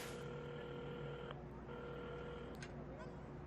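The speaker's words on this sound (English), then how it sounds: "at the counter, Carmen had started dialing the phone" Phone being dialed in the game Assemble with Care, heard as steady electronic dial tones that pause briefly and resume, with a short chime near the end, over a low background hum.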